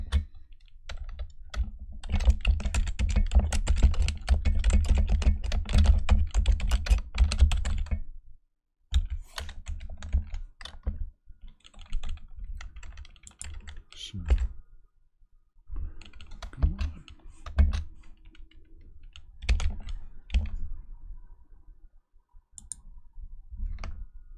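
A noisy computer keyboard right next to the microphone, dense rapid clacking for several seconds, then a short pause and bursts of irregular keystrokes and heavy thunks, loud and close with no talk.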